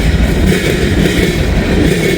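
A Norfolk Southern freight, train 170, rolls past in high wind near a work zone, a loud continuous rumble with rhythmic rail clatter filling the whole stretch, close by and steady.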